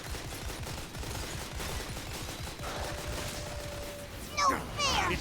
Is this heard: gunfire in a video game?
yes